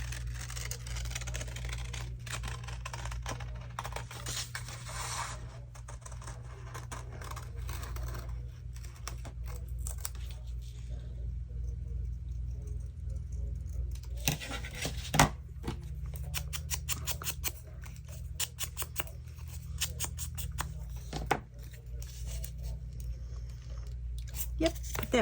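Scissors snip out a paper craft piece in a series of small, crisp cuts with irregular pauses, up close over a steady low background hum.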